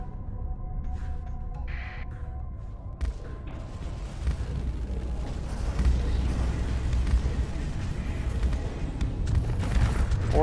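A spaceship blows up in Starsector, a rolling low boom that swells around three seconds into a sustained rumbling roar of battle noise with crackles, loud and continuous to the end.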